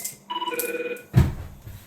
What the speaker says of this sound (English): Had a phone call there.